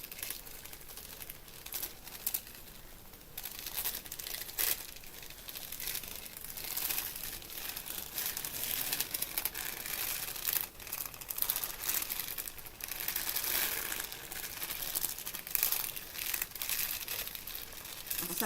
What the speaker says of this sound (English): I'll stop crinkling too, that doesn't help.